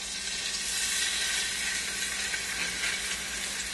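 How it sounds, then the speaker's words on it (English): Fish browns in hot oil in a pan, giving a loud, continuous sizzling hiss that stays even throughout, close up and with no talking. "now to brown up the fish, I'm just going to add some oil to the pan"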